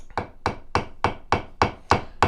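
A small hammer taps a fret out of the neck of a 1960 Fender Telecaster Custom on a workbench: eight sharp, close, woody knocks at a steady, even pace.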